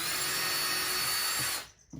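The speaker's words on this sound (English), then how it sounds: "So as much as I hate pre-drilling, I do pre-drill these." A power drill pre-drills wooden boards for a DIY mouse rack, a loud steady whirring close by that stops abruptly near the end.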